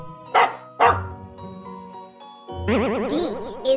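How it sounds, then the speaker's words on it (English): A dog gives two sharp, close barks, then a pause and a longer wavering howl-like yelp, loud and alone over faint background music. "D is for dog."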